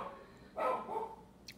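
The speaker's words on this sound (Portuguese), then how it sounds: "Os meus cachorrinhos estão latindo nesse exato instante." Small dogs bark faintly in the background of a quiet room, a short burst of yaps followed by a softer bark and a brief high yip.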